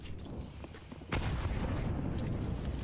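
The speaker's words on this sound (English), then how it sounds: "Frags falling from the sky." Grenades burst in a multiplayer video game, a muffled rumble then a heavy boom at about one second giving way to sustained loud rumbling, with a caster talking faintly over it.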